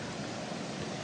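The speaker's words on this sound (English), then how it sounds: "I hear another, what sounds like raging river." A raging river somewhere along the Appalachian Trail gives off a steady, dense rushing roar from a short distance, unbroken and without voices.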